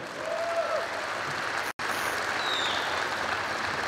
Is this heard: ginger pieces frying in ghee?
no